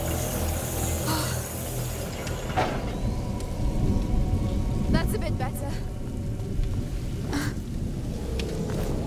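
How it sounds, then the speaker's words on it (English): Heavy rain pours steadily during a thunderstorm in the video game A Plague Tale: Innocence, with rumbles of thunder rolling through the dense downpour and faint voices beneath. "Don't worry, the storm will drown out our voices."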